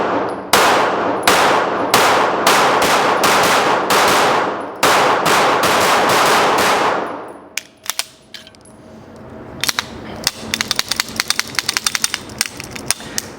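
Rapid handgun shots fired one after another in a fast string, sharp loud cracks with metallic ringing, then a quieter pause followed by a scattered burst of lighter clinks and pops.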